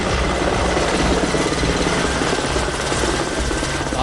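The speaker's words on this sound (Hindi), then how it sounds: "जयपुर के सवाई मानसिंह अस्पताल के ऊपर भी वायुसेना के हेलीकॉप्टर मंडराए और फूलों की बारिश की।" Indian Air Force helicopters hover over Sawai Man Singh Hospital in Jaipur, making a loud, continuous rotor and engine roar that stays steady and close with no pauses.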